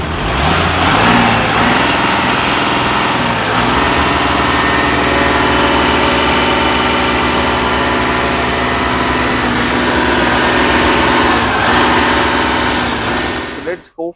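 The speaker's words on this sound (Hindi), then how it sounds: "अब मैं एक गाड़ी का सेल्फ मार के आपको इंजन की साउंड सुनाता हूँ" Engine of a 2018 Audi Q7 45 TDI diesel SUV starting and settling into a steady idle: a loud, continuous close-up drone with an early rise in pitch, then cutting off at the end.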